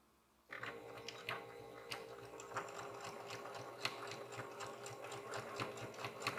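A sewing machine runs steadily, top stitching around the edge of a fabric utensil holder, its needle clattering in a fast, even rhythm close by, starting after a brief quiet moment.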